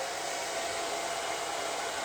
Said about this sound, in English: I'm going to use a hairdryer for 1 second because it's going to take a while for this to dry.